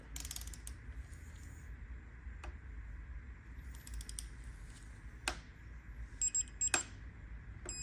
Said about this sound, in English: I got my torque wrench set up, so we're gonna go ahead and set that up to 50 Newton meters